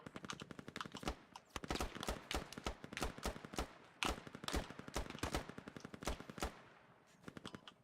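Gunfire in the tactical shooter Squad: sharp rifle shots and automatic bursts crack in irregular rapid clusters throughout, some close and loud, others more distant, with no talking heard.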